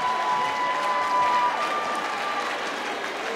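Fans cheering and applauding at a high school boys basketball game, Minnehaha Academy against DeLaSalle: a loud, sustained roar of clapping and crowd noise filling the gym without pause.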